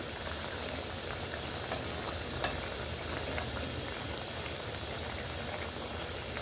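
Hilsa and prawn curry frying in a pan while being gently stirred, a soft continuous sizzle and bubble with occasional faint scrapes of the spoon, steady and fairly quiet with no talking.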